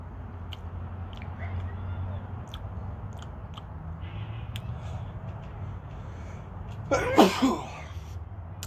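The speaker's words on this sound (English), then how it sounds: "think that chili just made me sneeze" A single sharp sneeze, set off by eating an Aji Charapita chili, bursts out near the end, following quiet background noise and soft mouth sounds.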